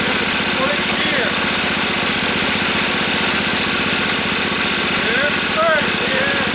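A PZ30 carburetor-equipped engine on a go-kart runs at a steady idle, a close, continuous buzzing drone with a rapid pulsing rhythm throughout.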